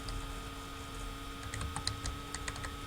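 Typing on a computer keyboard into a web browser search box: a quick run of light key clicks in the second half, close and fairly quiet over a steady electronic hum.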